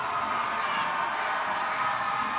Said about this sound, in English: The fans are going to cheer every touch now